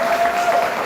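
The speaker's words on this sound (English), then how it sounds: "A round of applause for our awardees." Brief burst of audience applause for awardees at a secondary school awards and anniversary celebration, a dense wash of many hands clapping, fairly loud, with a faint steady tone underneath.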